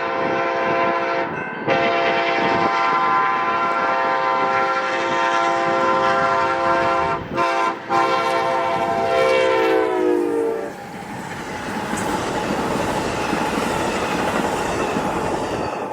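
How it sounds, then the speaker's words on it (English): Amtrak train 713, led by SC44 Charger locomotive 2103, sounds a long, loud horn blast with a brief gap, then roars past close by with rumbling wheels and clatter. "First up is train 713 with SC44 Charger 2103 at the lead."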